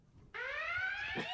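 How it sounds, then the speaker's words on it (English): A ship-wide alarm aboard a spacecraft in The Expanse cuts in abruptly as a loud, steady harmonic tone that holds and slowly rises in pitch, with a brief low thump near the end. "Ship-wide alarms going off."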